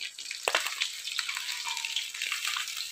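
Fish frying in hot oil in a home kitchen, steady loud sizzle with sharp crackling pops and spatters scattered throughout, close up.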